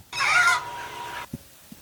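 A chicken lets out a loud, drawn-out cluck, followed by a couple of faint soft clucks nearby.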